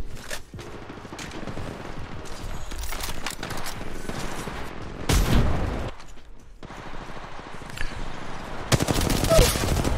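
Apex Legends Mobile gunfire rattles in bursts across the match, with sharp louder volleys near the middle and the end over ongoing game noise.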